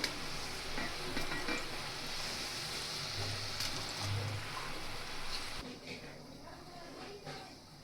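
Crispy potato cutlets fry in a pan with a steady, close sizzle and crackle that eases slightly toward the end. A voice talks faintly over it.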